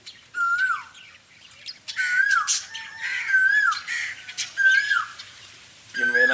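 A bird's loud squawking calls repeat several times, each a sharp whistled rise and fall, close by with brief pauses between bursts.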